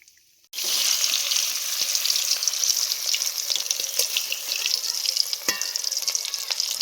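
Battered bitter gourd drops into hot oil and sets off a loud, continuous crackling sizzle that keeps bubbling steadily close by.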